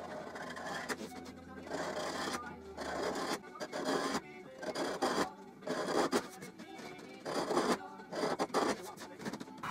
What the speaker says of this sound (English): I'll scrape off the finish with a chisel